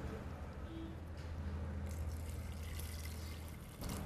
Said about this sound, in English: And now I'm going to add the water in.